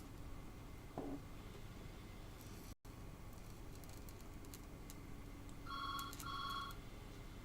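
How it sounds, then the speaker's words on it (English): A telephone rings twice in quick electronic trills near the end, faint and somewhat distant, above a steady background hiss in a quiet room. "there's no way I'm answering that phone"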